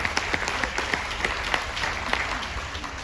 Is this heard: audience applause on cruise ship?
yes